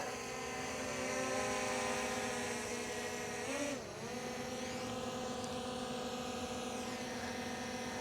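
A camera drone hovers and flies close by, its propellers giving a steady, loud high-pitched whine that holds constant, then briefly dips and bends in pitch as it maneuvers before settling back to an even drone.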